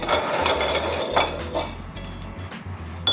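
Plates and dishes clatter and clink together in a continuous busy jumble, close and fairly loud, over a low steady hum.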